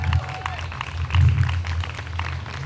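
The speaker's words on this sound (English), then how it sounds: "Let's give our veterans a round of applause" Comedy club audience applauding military veterans, a steady burst of clapping and crowd murmur under a low hum, fairly close and sustained for a few seconds.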